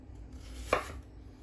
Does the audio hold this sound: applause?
no